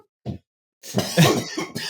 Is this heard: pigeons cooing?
no